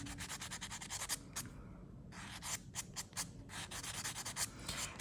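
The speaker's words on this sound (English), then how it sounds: "once you buff the edge like this edge is perfect." A buffer block is rubbed along a fingernail's free edge in quick, soft, scratchy strokes, close and quiet, with one short pause partway through.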